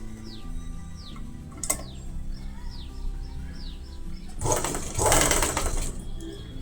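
A sewing machine stitches a border onto cloth in a long steady hum, with chirping birds and a brief ratchet-like click in the background, and a louder burst of stitching near the end.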